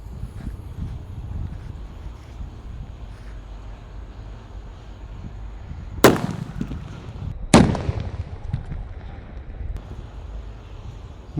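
A jumbo Colorful Thunder firework cracking outdoors, two sharp loud bangs about a second and a half apart over low rumbling wind noise.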